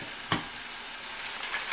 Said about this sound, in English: Sizzle, that's the sizzle of a good burger.